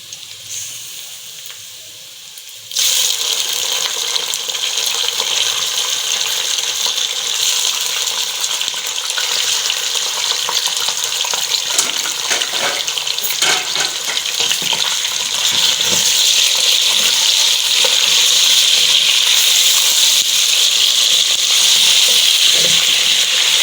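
Meat dropped into a hot pot of browning onions for aloo gosht, bursting into loud, steady frying and sizzling that continues strongly and evenly throughout.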